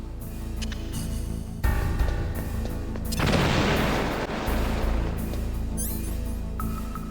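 Bombing explosions in the Metal Gear Solid video game: heavy booming blasts break in suddenly, with a big broadband burst in the middle and more rumbling after it, all over a steady game soundtrack.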